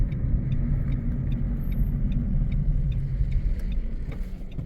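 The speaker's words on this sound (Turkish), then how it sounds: "Daha sonra ani fren alanında ani freni gerçekleştireceğiz." A car on a driving-test course carrying out an emergency stop, with a steady low road and engine rumble close by and faint higher clicks throughout.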